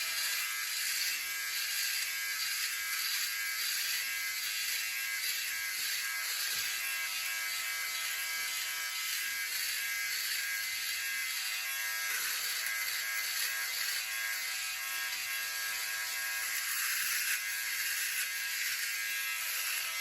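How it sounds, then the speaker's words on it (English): A Philips OneBlade electric razor shaving downward against the grain on the neck, a continuous close buzzing hum with faint rhythmic rasping as the blade moves over stubble, steady in loudness throughout. "I'm gonna use that bottom part of the blade and I'm gonna shave downward"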